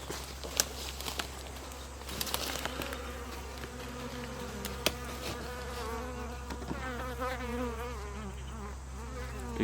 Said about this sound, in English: Big giant bee nest in there.